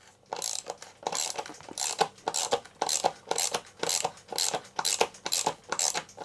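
Ratchet clicking in repeated short bursts while loosening Magura brake bolts on a Trek Rail 5 e-bike, close and fairly loud with brief pauses between strokes.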